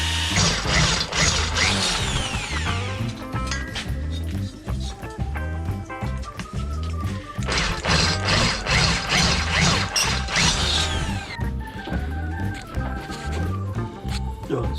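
Cordless battery drill left running free to cool after heavy drilling, its fan and motor whirring continuously with a rattling, ratchet-like mechanical chatter; close and loud throughout, no talk.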